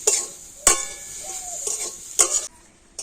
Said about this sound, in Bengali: আর এবার আমি নারকেল আর আখের গুড়টা খুব সুন্দর করে এইভাবে নাড়াচাড়া করে নেব